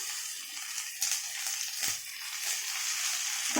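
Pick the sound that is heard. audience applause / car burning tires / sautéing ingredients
sautéing ingredients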